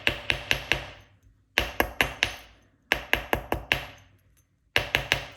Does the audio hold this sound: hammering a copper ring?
yes